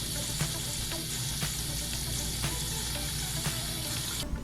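Tap water runs steadily into a sink to soak potatoes, a continuous close splashing rush with faint clinks, cutting off abruptly at the very end.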